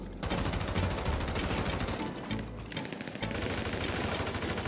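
Gunfire from a pump-action shotgun in the video game GTA 5 Online, dense rapid shots in a near-continuous loud barrage with a brief lull midway.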